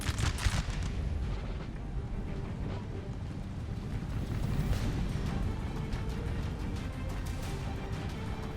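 Rolling musket and artillery gunfire from a Napoleonic battle in the game Napoleon Total War, distant booms and crackling volleys blending into a continuous rumbling barrage.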